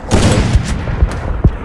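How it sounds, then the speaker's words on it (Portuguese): Gunfire rattles through a video game shootout: dense bursts of shots with several sharp booming reports, loud and close over a noisy background. "essa sequência de tiro aqui"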